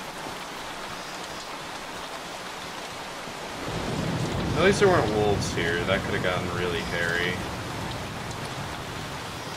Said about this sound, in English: Well, it's raining.